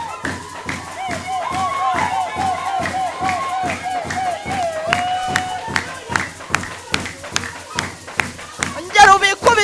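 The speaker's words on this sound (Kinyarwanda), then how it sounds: "amashyi" Rhythmic group clapping at a church gathering, an even, steady beat of many hands keeping time under a loud chanting, singing voice.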